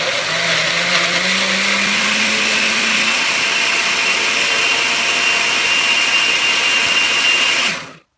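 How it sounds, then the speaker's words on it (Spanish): Blender grinding tomato for Mexican beef picadillo, a loud, steady whirring roar that runs without a break for about eight seconds before cutting off abruptly, with no one talking. "Lo vamos a dejar moliendo hasta que quede finamente molido, súper molido."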